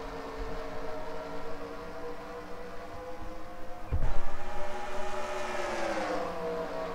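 Race cars in a video game pull away at the green flag at New Hampshire, a steady droning roar of several engines with a sudden louder surge midway as the field accelerates, rising in pitch afterward.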